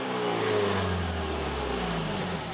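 The four-cylinder engine of a 2024 Mazda CX-90 plug-in hybrid SUV kicks on in sport mode and revs steadily, a smooth droning hum rising slightly in pitch, close and continuous with no talking.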